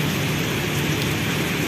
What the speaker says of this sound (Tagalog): At ako'y susungin ko na itong ulan na ito.